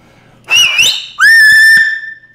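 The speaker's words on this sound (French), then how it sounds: "Là, c'est le fameux sifflement avec les doigts, là." Two loud, piercing finger whistles, the first short and wavering, the second a longer sustained tone that rises then holds steady, heard alone at close range.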